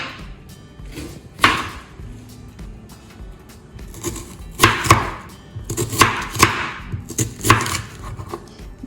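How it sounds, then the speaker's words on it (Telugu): Onions and green chillies being finely chopped with a knife on a board, scattered sharp knocks that grow into quicker clusters of close chops, with no talk. "ఆనియన్స్ని ఫైన్ చాప్ చేసుకుందాం అండ్ చిల్లీస్ కూడా ఫైన్ చాప్ అన్నమాట."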